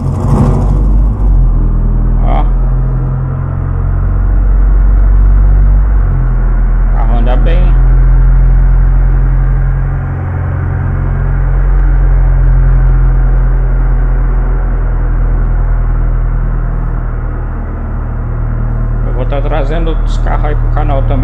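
A Renault Megane engine in Euro Truck Simulator 2 holds a steady, loud low rumble throughout, swelling slightly as it accelerates, with brief clicks and a voice talking over it near the start and end.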